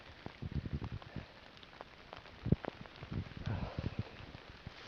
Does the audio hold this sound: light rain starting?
yes